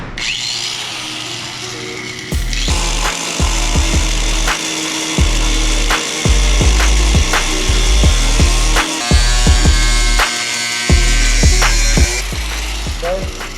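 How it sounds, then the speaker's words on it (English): A cutting wheel grinds into rusted metal on a Nissan 300ZX, a loud continuous whine broken by repeated short knocks and clanks as the tool shifts against the panel. "I'm going in with this cutting wheel"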